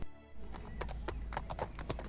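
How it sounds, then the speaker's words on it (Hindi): A horse's hooves clip-clop in a steady, close rhythm as it walks alone toward a village, with a brief whinny-like tone above the clear footfalls. "उसने अपना घोड़ा लिया और वे अकेले ही गांव की तरफ चल दिया।"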